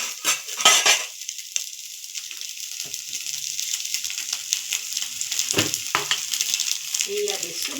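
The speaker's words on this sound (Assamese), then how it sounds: "এতিয়া মাছখিনি মই অকল কেৰাহীত দি দিম, সুদা কেৰাহীটো।" Fish stirred and dry-fried in an oilless wok: steady sizzling with repeated scraping and clattering stirs, loud up close, running continuously with no voices.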